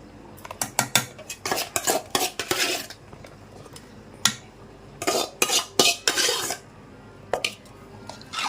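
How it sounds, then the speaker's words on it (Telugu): A spoon scrapes and clanks repeatedly against a pot as ground gongura is mixed into a mutton tripe curry, the stirring coming in quick, uneven bursts with a faint sizzle underneath. "ఇప్పుడైతే ఈ రుబ్బు పెట్టుకున్న గోంగూర కూడా దీంట్లో వేసుకుందాం."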